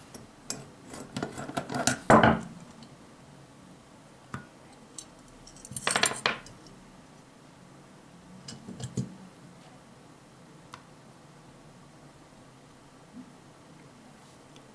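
Small metal clicks, ticks and scrapes come from unscrewing four large spring-loaded bolts and lifting the heatsink off a BenQ W1070 projector, close and sparse, with quiet pauses between.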